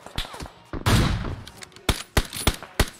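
Gunfire in the mobile battle royale game PUBG Mobile: a burst of several sharp shots, then a longer rumbling blast and four more spaced single cracks, loud and close.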